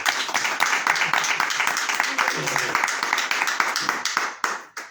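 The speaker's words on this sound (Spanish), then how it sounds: "también aprovecho para que le deis un fuerte aplauso a Vilma" Audience at a literary book presentation in a café claps steadily for about five seconds, dense overlapping hand claps that fade out at the end.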